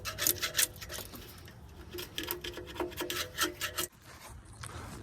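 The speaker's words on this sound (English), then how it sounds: "Maybe we'll see if I can kind of chisel a good amount of that off." A metal chisel scrapes and rasps residue off a car part in quick, uneven strokes, close and fairly quiet, with a low hum underneath.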